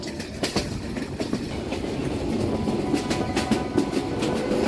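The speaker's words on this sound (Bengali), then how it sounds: "রাতে ট্রেনে চড়ে আমরা রওনা দেই সিলেটের পথে" A night train bound for Sylhet from Dhaka's Kamalapur station rumbles steadily, with a dense low roar and repeated sharp clicks of wheels over rail joints, loud and continuous throughout.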